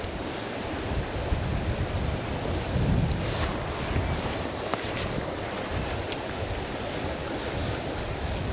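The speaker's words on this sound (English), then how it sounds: "Gosh, that's some wind." Strong wind gusts along the River Doon, buffeting close and loud in a steady, roaring rush with a heavier surge near the middle, mixed with the wash of the water.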